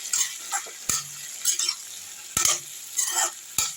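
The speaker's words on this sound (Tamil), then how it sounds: "இதை தூக்கி சாப்பாட்டில் போட்டுருவோம் ஒரு கிண்டு கிண்டி இந்த மசாலா எல்லா இடத்துலையும் கலக்கட்டும்" Cauliflower fried rice with masala stirred in a pan, a spoon scraping and clanking against the metal in several sharp strokes over a soft sizzle.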